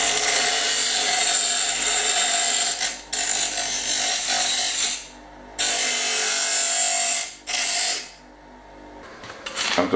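A bench grinder rounds off the corners of a small metal piece, giving loud, close, harsh grinding bursts of several seconds each, broken by brief pauses as the piece is lifted away.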